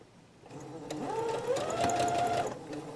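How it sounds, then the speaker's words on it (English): A sewing machine stitching a face mask seam close to the seam line, a short burst of steady mechanical whirring that speeds up and holds for about two seconds, close and clear. "we're going to stitch about 1/8 of an inch from the seam line"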